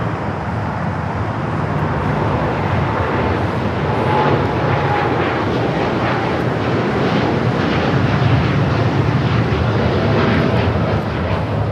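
American Airlines Boeing 787-9 Dreamliner taking off from Los Angeles bound for Tokyo Haneda, a loud, sustained jet engine roar holding steady throughout with a deep rumbling undertone and no talk.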